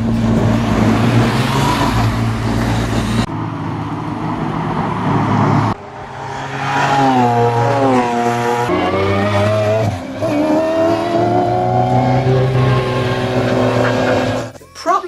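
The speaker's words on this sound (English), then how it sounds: "All those priceless cars driving around our beautiful French country roads, it was a sight to behold" Priceless classic cars drive along French country roads, with loud engine revving, rising and falling gear changes and tire noise as they pass close by over about fifteen seconds.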